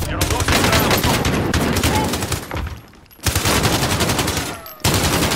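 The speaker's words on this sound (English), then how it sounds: "Shoot this guy in the back, John." Call of Duty gunfire, dense continuous automatic shooting in loud sustained bursts with a brief lull in the middle, close and heavy, with voices faintly mixed underneath.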